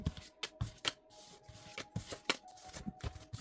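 Tarot cards are shuffled by hand close up, with a rapid, uneven run of crisp riffles and papery slaps, some louder than others, with no talk.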